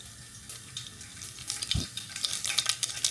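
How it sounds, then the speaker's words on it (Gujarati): Mustard seeds go into hot oil in a home kitchen, starting with a soft hiss that builds into faint, scattered crackles and pops, growing busier toward the end. There is no talking. "અહીંયા તેલ ગરમ થઈ ગયું તો આપણે પેલા રાઈ નાખી દઈએ."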